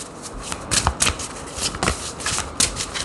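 Tarot cards are shuffled by hand in a series of crisp, papery riffles and slaps, loud and close, arriving in irregular bursts without any speech.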